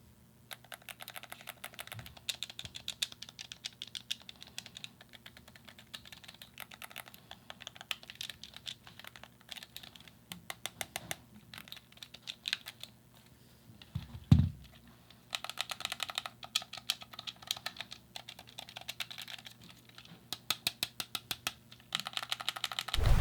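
Rapid plastic button clicks from an EasySMX YS07 wireless game controller tapping in quick irregular bursts, close and fairly quiet, with a couple of sharper knocks.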